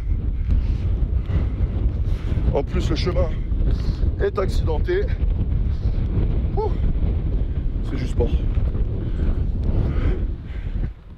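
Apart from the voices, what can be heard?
strong wind blowing on a hillside path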